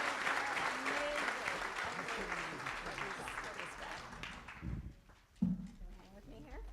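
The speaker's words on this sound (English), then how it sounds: "We need bigger applause for these guys." Audience applause at a rabbi's installation ceremony, a crowd clapping with voices mixed in that fades after several seconds, followed by a few louder bumps and speech.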